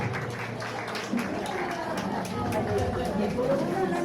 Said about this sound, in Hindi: ताली बत्ती रहनी चाहिए।